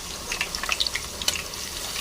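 Chili paste fries in oil in a pan for a paneer and potato curry, an even close sizzle broken by scattered spits and pops, a sharp crackle near the middle, then a calmer hiss, with no one talking.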